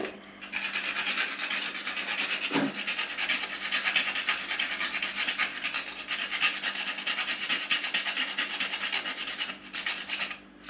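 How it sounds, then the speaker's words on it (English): Whole nutmeg rasped by hand on a grater for homemade eggnog, a steady close scratchy rubbing that runs continuously with only brief pauses. "You have to be a bit careful with your fingers when you're grating nutmeg."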